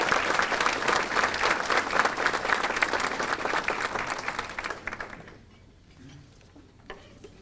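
Audience applause at an awards ceremony, a full hall clapping loudly and steadily for about five seconds before it tapers off into quiet, with a few last claps.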